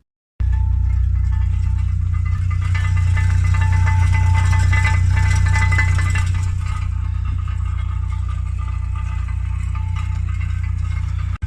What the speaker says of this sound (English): making a really bad rattling noise, which I originally thought was a heat shield of some kind